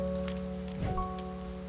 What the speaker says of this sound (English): Oh, it is raining today.